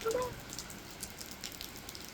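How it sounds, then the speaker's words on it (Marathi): Rain patters as a faint, even hiss close by, with scattered drops and a brief tonal squeak near the start. "खूप सारा पाऊस."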